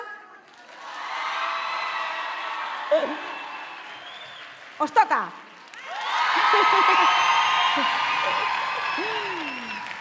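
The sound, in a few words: crowd applause and cheering at carnival presentation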